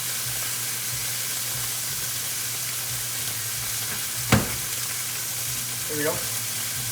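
Steak searing in a very hot cast iron skillet, a steady loud sizzle and hiss throughout, with a sharp clink partway through and a short spoken remark near the end.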